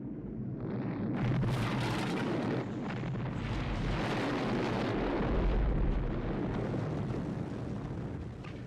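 A massive explosion from the film The Thing, a long roaring blast with rumbling low end and crackling debris that swells and lingers for several seconds, loud and dense, no speech.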